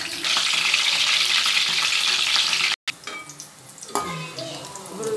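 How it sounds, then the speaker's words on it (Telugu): Ground onion and chili paste fry in oil for a bitter gourd dish, a loud close sizzle that cuts off abruptly, then quieter crackling with a stirring clink. "బ్రౌన్ ఈ కలర్ వచ్చిన దాకా మనం వేయించుకోవాలి నూనెలో"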